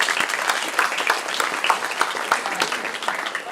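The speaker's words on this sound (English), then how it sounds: "So round of applause for yourself." At the HackUTD X closing ceremony, a crowd breaks into lively applause, many hands clapping in a quick, uneven patter that carries on steadily for a few seconds at moderate loudness.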